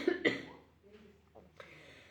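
A woman gives a couple of sharp, close coughs at the start, followed by quieter throat noises and faint breathy sounds trailing off.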